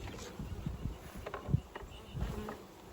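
Honey bees buzz faintly around a bee nuc being installed outdoors, a low hum with a few louder passes as individual bees fly close, and nobody speaking.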